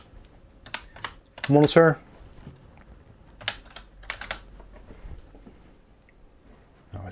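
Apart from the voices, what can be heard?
typing on a computer keyboard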